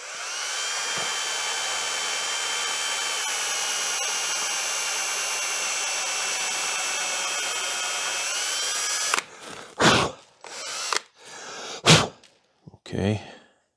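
A power drill whines steadily at high speed for several seconds boring a large hole in a finished wooden piece, then stops; a few short breaths and rustles follow.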